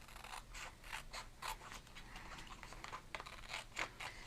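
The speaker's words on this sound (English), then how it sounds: "I like to go ahead and cut all of these apart" Scissors snip repeatedly through a paper stencil for Thanksgiving table decor, producing a steady run of crisp, close cutting strokes with light paper rustle and no voices.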